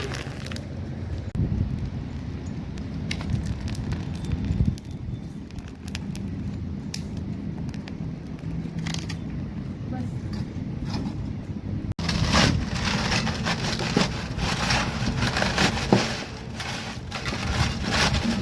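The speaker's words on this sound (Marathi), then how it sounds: "बघा आता पापड भाजून चालू आहे" Papad roasting over an open wood fire on a village-style terrace, with faint crackling and rustling amid steady outdoor wind noise, brief scraping handling sounds, no talk.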